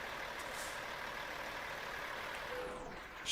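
A truck engine idles in American Truck Simulator, a steady low rumble with a faint hiss of air, holding even throughout before a brief burst at the end.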